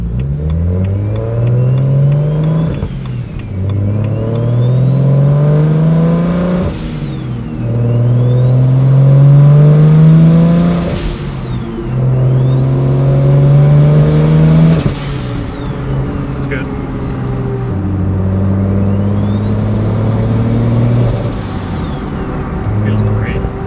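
BMW N54 engine fitted with a Doc Race single turbo kit revving loudly, repeated rising and falling pulls about every four seconds, strong and close with a whistling turbo tone riding over the deep engine note.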